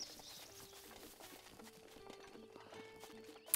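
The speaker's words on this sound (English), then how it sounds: "Let's get a horse and travel up the road a bit." Horse hooves clip-clop in a steady trotting rhythm in Zelda: Breath of the Wild, faint and even throughout, with soft game ambience behind.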